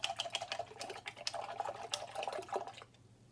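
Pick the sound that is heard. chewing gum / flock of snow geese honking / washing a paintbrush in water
washing a paintbrush in water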